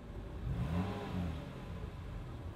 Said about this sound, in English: Here's my wife's Lexus when you rev it up a little.